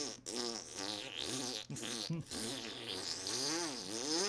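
A man vocally imitates fart noises, made by a hand pressed into a jar of slime, in a continuous run of wet, buzzy, wavering blurts filling the clip, with no clear talking.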